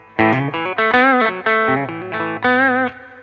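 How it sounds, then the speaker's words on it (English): An electric guitar plays through a Fender Super Champ XD amp with a spring reverb effect, a series of clean sustained chords and notes, each ringing briefly before the next, with a short tail at the end. "So that kind of sounds like a spring reverb"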